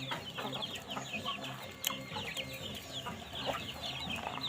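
Several chickens cluck and cackle nearby in busy, overlapping calls, with occasional sharper squawks over a low outdoor background.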